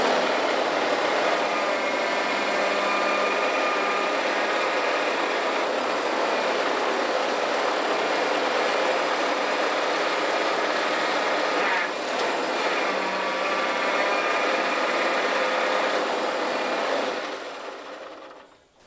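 Skid steer loader engine running steadily and loudly while the loader arm is raised, a constant close mechanical drone that holds for most of the time before dropping away at the end.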